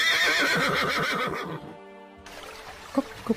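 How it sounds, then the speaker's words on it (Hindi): A horse neighs loudly and close by in a forest beside a river, a long shrill whinny that fades out, followed by a brief quiet gap and then a couple of soft snorts or hoof knocks. "तभी राजा का घोड़ा आवाज करता है।"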